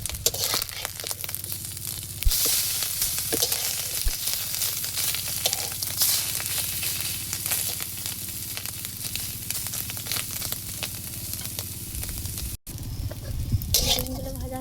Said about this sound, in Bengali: ডিমগুলো ভাজা হয়ে গেছে, তুলে নেব।